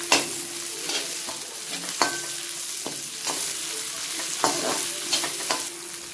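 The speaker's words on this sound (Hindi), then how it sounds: "अब हम इसमें डालेंगे अपने अनियन। इसमें डालेंगे कैप्सिकम और इसे 2 मिनट फ्राई कर लेंगे" Onions and capsicum fry in a pan with a loud, steady sizzle close up, while a spatula scrapes and taps the pan at irregular intervals.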